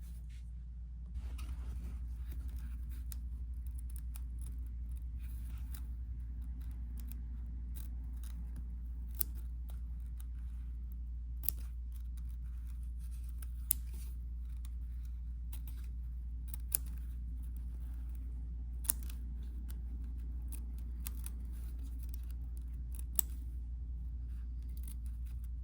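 Scissors snipping through flexi foam close to machine stitching on a gingerbread Christmas craft piece, a faint, steady run of small close cuts over a low background hum, with a few sharper clicks spaced through it and no talking.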